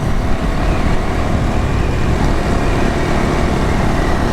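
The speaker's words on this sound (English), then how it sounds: "So at normal cruising, this Yoshimura pipe definitely is not loud." A Honda Monkey motorcycle fitted with a Yoshimura exhaust cruises at steady speed, its engine a constant moderate drone buried in heavy wind rush, with no talk.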